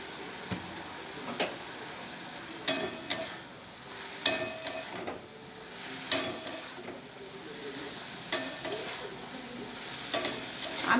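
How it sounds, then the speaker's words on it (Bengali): Prawns sautéing in spice masala in a pan give a soft, steady sizzle, broken by regular scraping knocks of a spatula stirring against the pan. "আমি সবসময় মশলার ভিতরে দিয়ে চিংড়ি মাছটা কষিয়ে নিই।"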